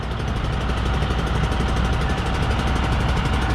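An old, worn truck engine idles roughly, a steady close low rumble with uneven vibration running throughout with no pauses.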